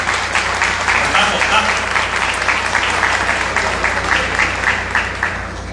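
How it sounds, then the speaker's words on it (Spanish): Audience applause at a book presentation, a loud sustained burst of many hands clapping that keeps an even pace, then tapers slightly toward the end, with some voices mixed in. "Un aplauso para Héctor."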